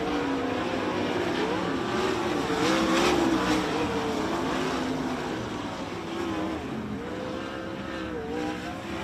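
Race cars in a heat race at Bloomington Speedway, a dirt oval, roar steadily and loudly throughout, engines droning and shifting pitch as the pack passes, with no talk over them.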